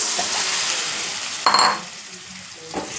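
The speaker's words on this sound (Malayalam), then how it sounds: "ഇനി നമ്മൾ ഇത് അവിച്ച് വെച്ചിരുന്ന ഗ്രീൻ പീസ് ഇതിലോട്ട് ഒന്ന് തട്ടാവേ" Boiled green peas, still in a little of their cooking water, tip into a hot pan of vegetable stew base with a brief loud sizzle, then settle into softer frying and stirring, with a light clink near the end.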